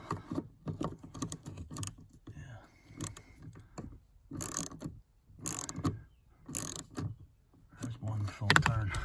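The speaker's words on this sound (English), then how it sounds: "Let's take a turn or two off of that nut there." Wrench ratcheting on a 10 mm park brake cable adjuster nut on a 2011 Suzuki SX4 AWD, with short bursts of quick clicks separated by pauses, close and moderate in level.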